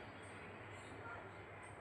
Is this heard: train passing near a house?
yes